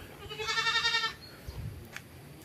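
A goat bleats once, a loud wavering cry lasting about a second, followed by faint rustling and a soft thump in a quiet outdoor setting.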